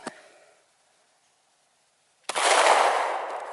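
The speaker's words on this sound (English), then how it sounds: "I'm going to take another shot a little bit down lower and see if I could actually hit the battery" One sharp gunshot aimed at a computer to hit its battery, with a brief crack at the start, then silence and a second loud, close blast that rings out and slowly decays.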